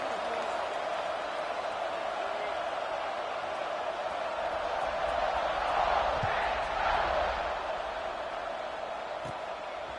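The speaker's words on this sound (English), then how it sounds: "this crowd is buzzing after that last score" A football stadium crowd at an Ole Miss versus Colorado game buzzes after a score, a steady broad roar of many voices from a distance that swells slightly midway.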